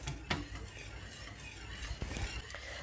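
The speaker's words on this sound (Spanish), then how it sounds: "Y ahora vamos a ir mezclando," Chocolate cake mixture stirred in a pot on an induction hob at medium heat, heard as soft scraping and clicking strokes of a utensil against the pot, a few sharper taps standing out over a low hiss.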